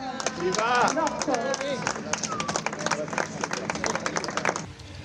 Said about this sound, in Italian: Facciamo un applauso per l'inaugurazione ufficiale dell'anno.